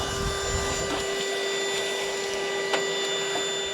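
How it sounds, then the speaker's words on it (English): A vacuum cleaner runs continuously while sucking junk out of an SUV camper, a steady whine with a strong tonal hum and occasional rattling clicks of debris. "we're gonna vacuum up all the junk that's in here"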